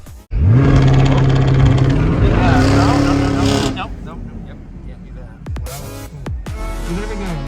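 A 2022 Chevrolet Camaro SS launching hard under launch control, its V8 roaring loud and rising through the revs before shifting and fading as the car pulls away, with voices and crowd noise following.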